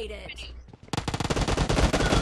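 A brief stretch of muffled voice gives way to loud, rapid bursts of automatic gunfire in the PUBG battle royale video game, shots crackling in quick succession until the end.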